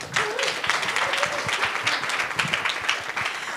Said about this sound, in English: round of applause for Shannon.